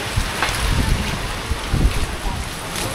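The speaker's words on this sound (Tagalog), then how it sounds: "Kasagsagang binabagyo kami eh no." Strong typhoon wind (Typhoon Crising) buffets the microphone on a farm in uneven gusts, a low rumbling roar with brief louder bursts throughout.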